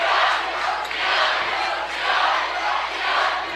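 A high school basketball crowd in a packed gym at a Hebron vs. Morgan Township game roars in rhythmic, swelling waves of cheering and chanting, loud and sustained, with the noise rising and falling about once per second.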